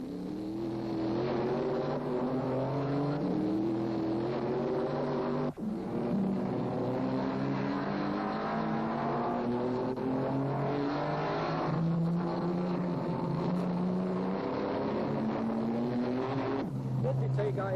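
1957 Formula 1 cars, including a Ferrari, racing at Reims in the French Grand Prix: continuous engine roar with shifting, rising and falling pitch as cars pass in close succession, under steady commentary.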